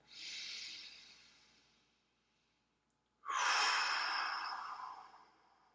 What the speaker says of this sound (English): let's take a nice, big,